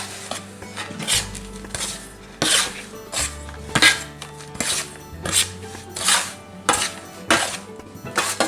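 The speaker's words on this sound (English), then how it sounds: "I'm going to stir this up." A cashew mixture being stirred in a pot, with rhythmic scraping and clattering strokes of a utensil against the metal repeating roughly every half second to second, fairly close and clear.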